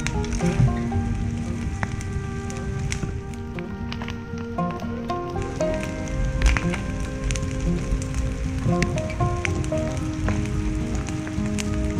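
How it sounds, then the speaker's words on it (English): Rain picks up and patters steadily on surfaces around an outdoor wood fire on a farm, a continuous hiss of drops with faint tonal sounds mixed in. "The rain's starting to pick back up"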